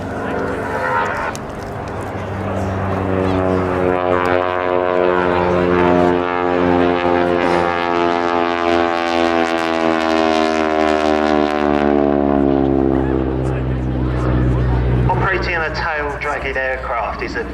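A North American T-6 Harvard propeller aircraft at the Cosford air show drones loudly overhead, its engine pitch sweeping as it passes close and then fading, with a commentator talking over the sound.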